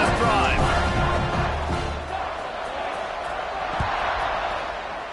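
Football stadium crowd roaring at a kickoff, a dense, sustained wash of cheering and noise from a large crowd, loud and steady, with a commentator's voice briefly under it at the start.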